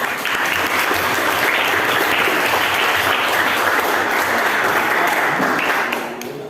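Sustained applause from an audience at a group presentation, a dense steady wash of clapping that holds loud for about six seconds before tapering off at the end.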